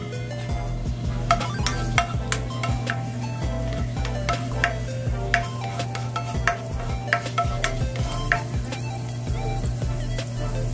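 Ground pork and onions sautéing for a tortang talong filling, with a steady sizzle beneath frequent close scrapes and taps of a spatula stirring the pan.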